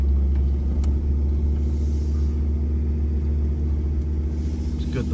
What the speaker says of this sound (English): Put her into four low and crawl up,